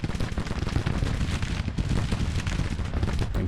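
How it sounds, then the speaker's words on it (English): Cannon bombardment in the strategy game Grand Tactician rumbles as a dense, continuous barrage of overlapping booms, heavy and low, with no pause through the short stretch. "I want you to bombard here."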